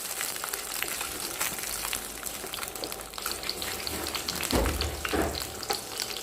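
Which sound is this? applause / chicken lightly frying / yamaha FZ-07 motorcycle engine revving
chicken lightly frying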